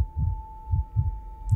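Heartbeat effect in the horror game True Fear: Forsaken Souls: deep, muffled thumps in a slow repeating double-beat rhythm over a steady electronic hum, loud and alone.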